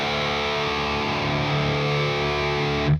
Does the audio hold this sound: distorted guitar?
yes